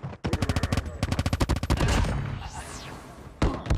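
Rapid automatic fire from a Cordite rifle in a video game, a loud, evenly spaced stream of close shots that stops, gives way to a whooshing sweep, then resumes in a short burst.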